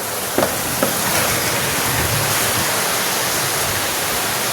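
Floodwater rushes through a street in heavy rain as a loud, dense, steady roar of flowing water, close and continuous, with a couple of faint knocks early on and no speech.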